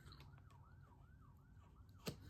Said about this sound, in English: I can hear sirens, sirens.